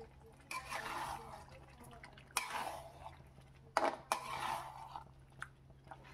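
Fried potatoes being stirred into chicken curry spices without water, faint intermittent scrapes and wet clinks of a spoon in the pan over a low hum, no talk.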